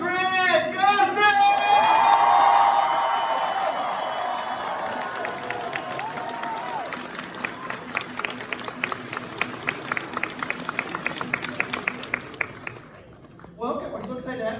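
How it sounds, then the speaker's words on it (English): Convention Q&A panel audience giving a guest a huge round of applause, loud sustained clapping with cheers and whoops from a large crowd, thinning toward the end before speech resumes. "Everybody, please give a huge round of applause for Gustin!"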